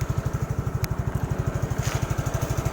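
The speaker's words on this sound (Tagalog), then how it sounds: "Ang tahimik niya guys, katulad ng ibang scooter," A Suzuki Skydrive Sports 115cc scooter engine idles steadily nearby with a fast, even low putter, quiet and unchanging, with no voices over it.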